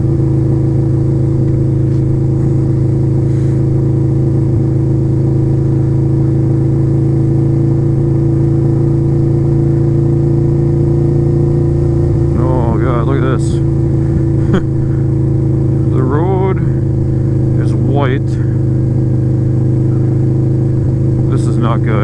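Harley motorcycle riding through a blizzard on a gravel road, its steady low engine drone running close and continuous with a few higher revving surges, a voice speaking briefly over it.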